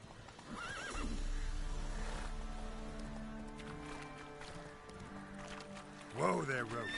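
Roach, the horse in The Witcher 3, whinnies loudly near the end after a stretch of steady hoof clopping and game ambience, with someone speaking briefly over it.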